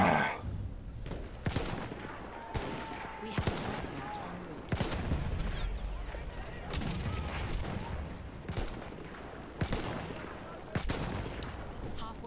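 Battlefield 1 gunfire crackles through a World War I battle scene, sharp shots and bursts landing at an irregular pace over steady combat noise, with a few louder close reports standing out.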